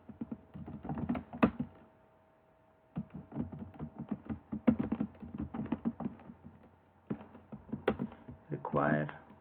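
Bursts of close computer keyboard typing as code is entered for a MERN stack app, with rapid clustered keystrokes, short pauses and a voice talking over parts of it.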